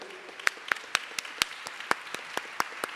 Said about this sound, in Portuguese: Essas palmas são dignas de você, viu?